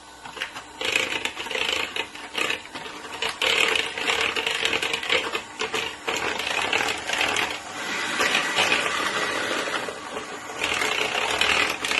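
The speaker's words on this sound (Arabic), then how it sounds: "شغل الخلاط" An electric mixer whips milk with cream powder, whirring steadily and loudly for the whole stretch, a continuous buzzing motor with slight rattling fluctuations, no voices.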